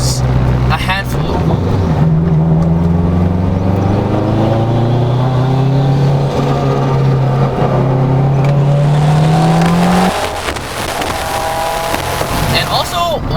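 Turbocharged 400-horsepower Acura RSX DC5 with a K20 engine droning loud and close from inside the cabin while driving, pitch climbing steadily under boost before a gear change, with someone talking throughout.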